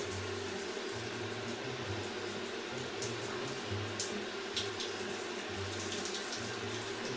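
Water runs steadily from a tap in a bathroom, a continuous hiss with a faint rumbling pulse underneath, close and unbroken for the whole stretch with no talking.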